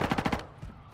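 A video game firefight: a rapid burst of automatic gunfire, about five quick shots in under half a second, then a quieter tail of distant noise.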